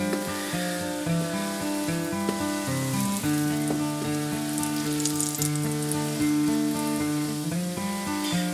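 French toast frying in butter in a hot pan makes a continuous bright sizzle beneath prominent background music, with no talking.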